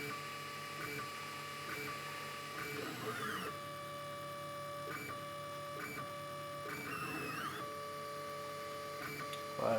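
A Dagoma Neva 3D printer heating up and probing on its first start, giving steady mechanical whirring with periodic stepper-motor sweeps and rhythmic tonal motor passes, moderately close and continuous.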